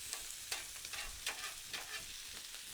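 Onions sizzle on a griddle beside steaks and vegetables, a steady crackling fry with occasional scraping stirs, close and without talk.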